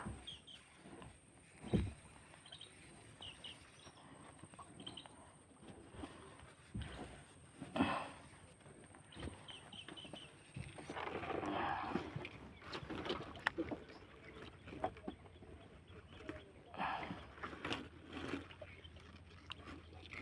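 A small boat glides over water in the Sundarbans with soft splashing and paddle-like knocks, steady low water noise throughout, with faint bird calls in the background.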